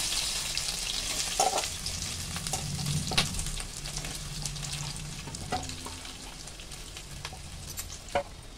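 Potatoes fry in a pan with green chilies, a steady close sizzle broken by scattered scrapes and clicks of stirring, with no voices.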